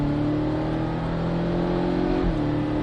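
A Porsche 718 Cayman S accelerates on a racing circuit, its engine pitch climbing steadily in a loud in-car drone, then dipping briefly at a gear change before continuing.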